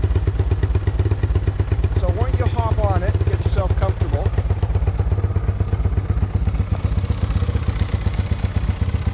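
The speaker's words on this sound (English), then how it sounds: "It's running pretty low, or idling pretty low right now." A 1985 Yamaha YTM 200e three-wheeler's small engine idles low and steady with a regular chugging pulse throughout, while a nearby voice speaks over it.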